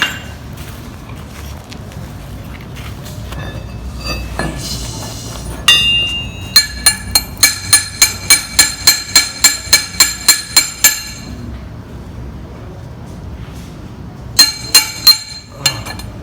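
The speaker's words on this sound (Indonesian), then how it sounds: "Biasa hasil pengelasan harus kita pukul dahulu menggunakan palu terak" A slag hammer knocks slag off an arc-welded bead in a lab workshop: scattered taps, then a quick run of about a dozen bright, ringing metallic strikes, a pause, and a few more blows, close and loud.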